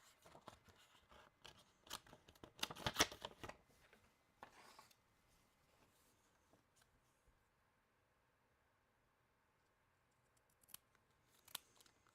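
Scissors snip through a custom sports card in a quiet room, with a cluster of soft clicking cuts at first, then near silence and a couple of faint snips at the end.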